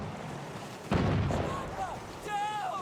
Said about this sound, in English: I've got no idea where these shots are coming from